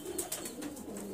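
Soft pigeon coos repeat close by in a gentle rhythm over quiet background hiss.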